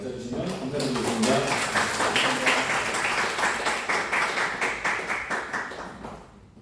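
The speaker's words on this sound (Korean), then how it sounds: "큰 박수로 맞아주시면 감사드리겠습니다." Audience applause welcoming a guest lecturer at a Hyundai Motor Group executive workshop in Jeju, dense steady clapping from a room of people with a few voices mixed in, sustained for several seconds before fading out at the end.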